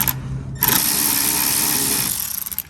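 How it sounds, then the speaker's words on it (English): Power tool running steadily to back out 10mm bolts on a Tesla Cybertruck during a rock slider installation, a loud continuous whir after a brief pause, then tapering into pulsing bursts at the end. "So now we're going to be removing these 10mm bolts here,"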